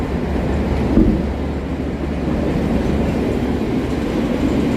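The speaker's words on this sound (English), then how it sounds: "Train's just waiting there." Low, steady rumble of a train idling at a Chicago station, with a constant drone and faint background noise, no talking.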